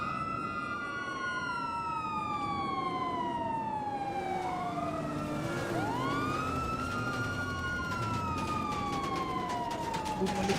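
A police car siren wails in rising and falling sweeps that glide and overlap, loud and continuous throughout, over a steady background of street traffic.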